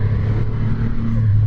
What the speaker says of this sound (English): And just check out that engine tone.